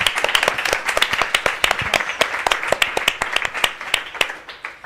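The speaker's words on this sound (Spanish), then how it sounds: "un aplauso pero enorme y empezamos" At an Agosto Clandestino session, an audience bursts into enthusiastic applause, loud and close. Many sharp individual claps stand out over a busy clapping texture that swells and then slowly thins over about five seconds.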